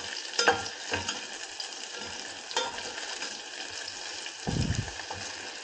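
Food in a pan on a big gas burner at a low simmer, a home one-pan meal with a spicy gravy, giving a soft steady sizzle with a few brief stirring scrapes and one louder low-pitched bubbling burst near the end.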